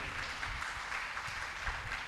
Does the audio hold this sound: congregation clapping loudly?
yes